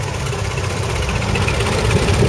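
A Fordson tractor idles at an autumn country show, its engine a steady, close, loud low rumble and chug that holds constant throughout without voices.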